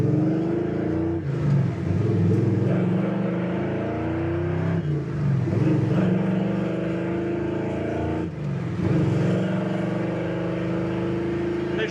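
Engine of a 1964 Chevrolet Impala pulling away in first gear, a deep, close rumble that rises and falls in a few smooth acceleration swells, with no talking.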